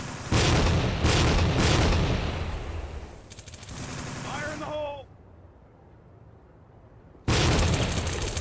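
Loud gunfire and a booming grenade blast in the tactical shooter game Tactical Ops, dense roaring bursts that fade into a quieter lull before another loud burst at the end.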